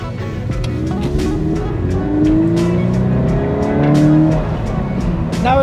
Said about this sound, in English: So it's time to get off the ramp and go for a short drive and figure out what the difference is now.